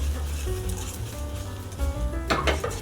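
Shrimp hitting frying jjapagetti noodles in a pan, a steady low sizzle with light stirring and utensil scrapes, swelling into a brighter hiss near the end, close and without talk.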